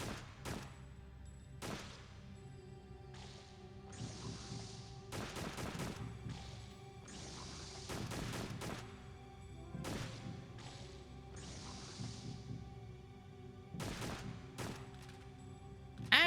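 Gunfire rings out in a bug-infested video game, with bursts and single shots spaced irregularly through the clip, some sharp broadband cracks among them, at moderate loudness over a steady background hum. No one speaks.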